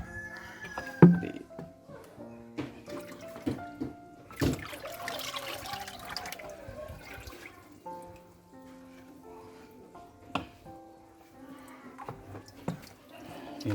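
Water from a catfish pond pouring and splashing as the pond is drained, a steady rushing flow with a rooster crowing repeatedly over it and occasional knocks nearby.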